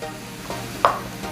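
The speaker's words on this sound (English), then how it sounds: "I'm going to add my zucchini and squash" Zucchini and squash sautéing for a chicken vegetable lasagna make a faint background sizzle, broken by one sharp clink of a utensil partway through.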